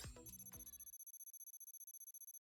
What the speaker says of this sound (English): As the phone blares out a frenetic ringtone, the screen turns on.